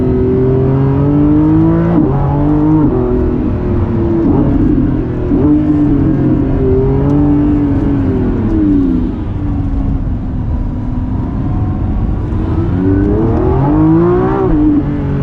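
A Lamborghini Revuelto's 6.5-liter V12 revs loudly and close while driving, its engine pitch climbing and falling in smooth sweeps with no talk over it.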